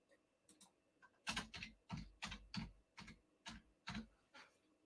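Fingers tap on a computer keyboard in a quick, uneven burst of about ten sharp keystrokes, close and clear against a quiet room.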